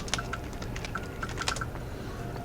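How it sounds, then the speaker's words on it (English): Rapid clicking of a computer keyboard as a command is typed into the SWGEmu game, a steady run of light keystrokes with a faint background hum and no talking. "So I will type /listen Vuxi."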